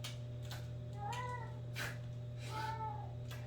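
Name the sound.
cat meowing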